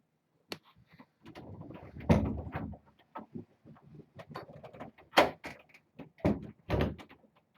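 A door being opened and closed several times indoors, giving a series of knocks, creaks and bumps of varying loudness with brief pauses between them and no talking.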